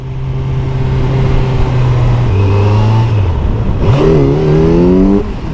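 A Yamasaki motorcycle engine revs hard and close during a brief wheelie on the street, holding a loud steady drone before dipping and then climbing sharply in pitch near the end.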